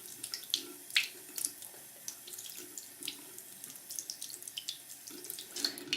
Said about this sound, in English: turning on the water and just running that underneath the water